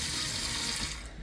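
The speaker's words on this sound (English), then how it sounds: "with very hot tap water" Very hot tap water runs steadily from a kitchen faucet in a home kitchen, a continuous close hiss that thins out near the end.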